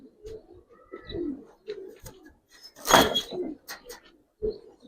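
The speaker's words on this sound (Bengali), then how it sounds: "আজকে বাইরে কবুতর ছাড়ছি তো এই কারণে ডিস্টার্ব করতেছে" Pigeons, Giribaz and coloring breeds kept as pets, heard cooing repeatedly at close range in soft rhythmic bursts, with wing flutters and some handling noise.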